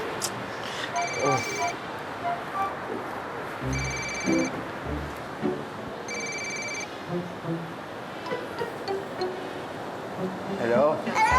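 A cellphone rings in a Filipino TV comedy, its electronic ringtone sounding in three short repeated bursts over a noisy background with some indistinct voices.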